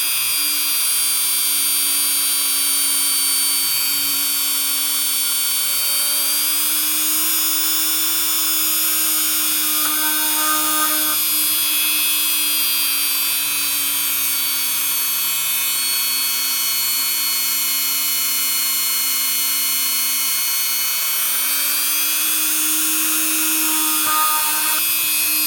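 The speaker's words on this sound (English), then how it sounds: "I drilled the holes just below the last little, there's 3 little dips here" A small high-pitched rotary drill whines continuously while boring holes into a boho art doll, the tone holding steady and loud with slight pitch dips as the bit bites, with no talking.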